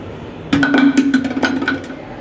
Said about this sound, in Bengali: শিলপাটাতে এখন বাটবো।